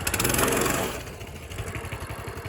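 A small Coleman CT200U-EX mini bike engine runs close by, a steady throbbing putter that is revved slightly at first and then settles to a lower, even idle.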